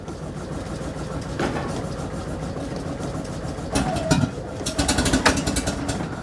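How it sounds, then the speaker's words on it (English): A car engine cranking steadily on the starter while fuel is drawn through, a continuous loud churning drone with rougher bursts in the later seconds, close by and with no talking. "Steady cranking. Waiting for the fuel to get drawn through again."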